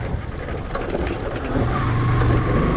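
A motorcycle rides with a passenger toward Ladowal in Punjab, with heavy wind buffeting the microphone over a low engine drone that grows louder partway through.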